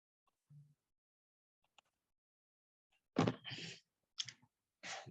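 Brief bursts of computer keyboard typing, close and fairly soft, arrive as a few quick clustered clicks after a near-silent stretch.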